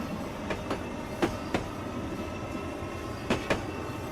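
An Amtrak train runs along Northeast Corridor tracks near New Rochelle, its wheels giving a steady rumble broken by several sharp clickety-clack rail joint knocks, heard from aboard at moderate volume.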